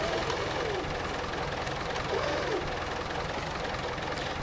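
Low, steady rumble of a tractor engine idling in the Farming Simulator 19 video game, a continuous mechanical drone with faint knocking texture throughout.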